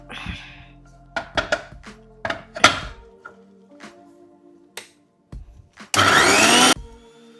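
A mixer grinder pulsing roasted hair-powder ingredients: scattered knocks and clatter of the jar, then a short loud whirring burst of the motor near the end.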